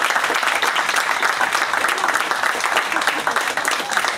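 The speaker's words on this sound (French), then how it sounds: "Je pense à une bonne main d'applaudissement." Dense, continuous applause from an audience at an event celebrating a public art and design project: many hands clapping together in a loud, even roar that holds steady throughout.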